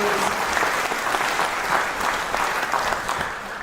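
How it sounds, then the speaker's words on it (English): An audience at a Vietnam-era veterans awards ceremony breaks into loud, sustained applause, a thick continuous roar of many hands clapping throughout with no voices over it. "can we have a round of applause for all of our veterans"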